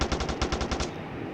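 Automatic gunfire in a gangster crime-fighting video game, a rapid burst of about nine evenly spaced shots that stops abruptly as the ammunition runs out, leaving a low background hum.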